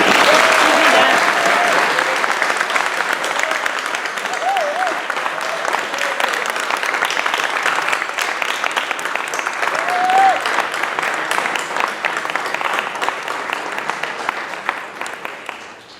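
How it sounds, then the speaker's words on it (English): Warm, sustained applause from an audience at an alumni Hall of Excellence induction ceremony welcomes a speaker, dense clapping that stays steady before thinning out at the end. "So a warm round of applause for Jennifer."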